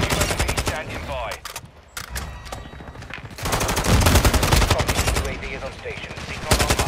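Rapid rifle fire rings out in bursts during an online shooter game, loud and close, with brief pauses between volleys while a player talks over the shooting.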